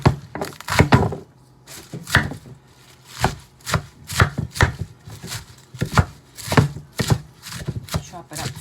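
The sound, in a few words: knife chopping organic romaine lettuce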